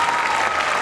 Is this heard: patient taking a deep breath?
no